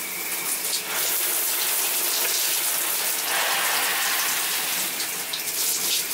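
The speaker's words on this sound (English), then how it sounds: "This one's the rain mode, like the normal shower mode." A handheld shower head on rain mode sprays water in a steady, loud hiss, with a continuous rainy patter.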